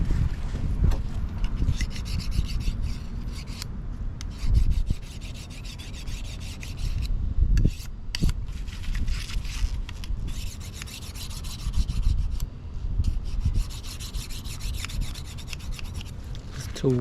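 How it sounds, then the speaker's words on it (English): Steady abrasive rasping of a knife blade being sharpened on a tool, a continuous scraping rub with slight strokes and pauses, close and moderately loud, during the cleaning of a four-foot alligator gar. "First I'm gonna sharpen this knife."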